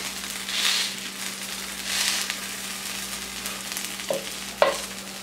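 Burgers frying in oil in a cast iron pan over medium-high heat, a steady soft sizzle with occasional louder hissing swells and a couple of sharp pops near the end.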